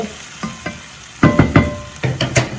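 A spoon stirs yardlong beans and chickpeas frying in a pan, giving a few scraping, sizzling strokes over a steady background hiss, close and fairly loud.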